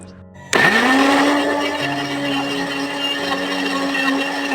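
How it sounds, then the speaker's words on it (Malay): Electric blender grinding spice paste ingredients mixed with water, kicking on abruptly after brief quiet and then holding a steady, loud motor whine with churning grit throughout, no talk. "lalu kita nak kisar sehingga lumat"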